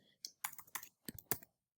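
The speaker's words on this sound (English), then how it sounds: "I type VCS here" Computer keys being typed in a short burst, five or six light separate clicks over under two seconds, close and quiet with no voice.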